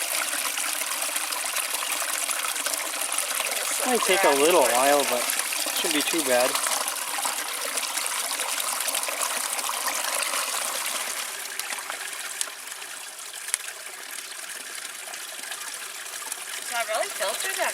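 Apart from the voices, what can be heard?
mountain stream water flowing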